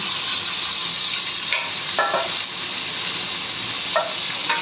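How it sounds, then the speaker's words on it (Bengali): Boiled banana flower tipped into hot oil with whole spices sizzles loudly and continuously, a broad steady hiss with a few brief scraping stirs, no voices. "দেওয়ার পরে এই সেদ্ধ মোচাটা সব কিছু একে ঢেলে দিলাম"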